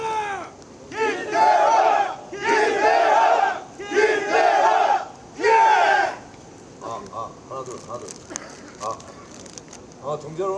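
At a union officer election, a crowd welcoming the candidates roars out a rhythmic chant in loud, repeated bursts, then breaks into lighter clapping and scattered voices.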